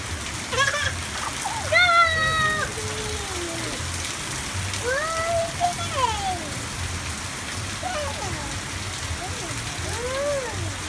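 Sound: rain falling and water splashing

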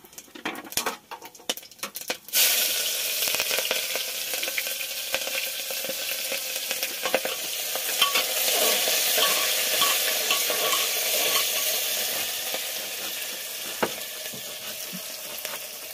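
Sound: onions stirred and frying in a pan

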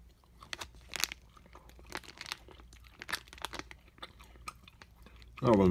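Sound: chewing crunchy Wenzel's Farm bacon cheddar snack

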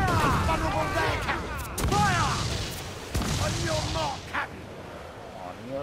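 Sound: heavy cannon shots in Assassin's Creed IV Black Flag video game

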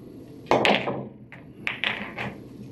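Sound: cue striking billiard balls in a pool shot

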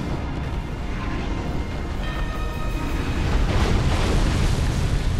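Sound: explosion in video game Dark Souls

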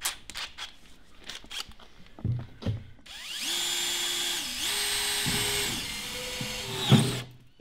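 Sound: power drill drilling a hole in fridge

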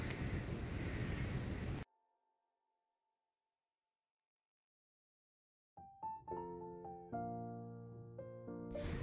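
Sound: wind blowing outdoors

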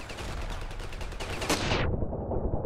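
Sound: gunfire in the video game Ravenfield

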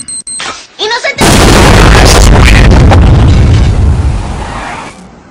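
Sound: explosion

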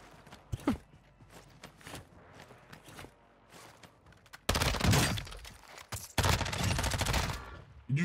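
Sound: gunfire in Warzone 2 video game

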